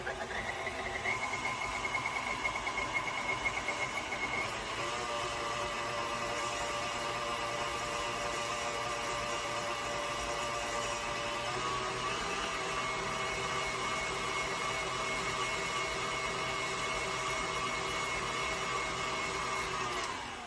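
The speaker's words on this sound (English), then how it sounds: "I'm going to continue to blend." Blender running continuously on a strawberry ice cream mixture, a steady close motor whir and hum holding for about twenty seconds without talk.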